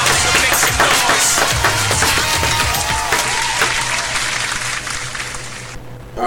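Studio audience clapping and cheering on an indie music show in L.A., dense loud applause with shouts that fades gradually before cutting off near the end.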